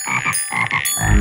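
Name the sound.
frog croaking in a children's counting video game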